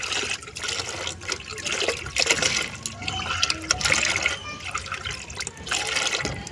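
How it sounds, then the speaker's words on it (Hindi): Water poured from a container into dry soil in a plant pot, a loud splashing, gurgling stream that rises and falls unevenly, close by with no speech. "ये तो 6 गुना पानी मैं इसमें भी डाल देती हूँ"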